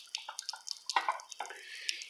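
Water running and dripping from a tap in a home chemistry setup, a fairly close series of irregular splashy drips and trickles, with no talking.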